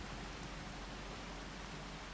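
Steady rain in Farming Simulator 25 on the remote off-grid homestead map, a continuous even hiss with no distinct drops, heard alone.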